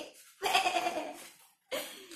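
A person imitates a sheep with a drawn-out wavering bleat, followed after a short pause by the start of a second bleat, close and clear.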